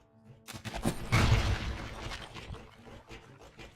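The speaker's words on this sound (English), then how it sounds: "There's fireworks going off." Fireworks going off outside a house on an Independence Day night, a cluster of loud booms and crackling bursts that swell around the second second and then trail off into scattered pops.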